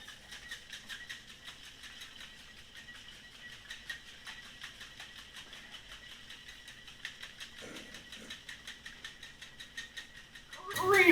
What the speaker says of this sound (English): Let's give it a dry shake.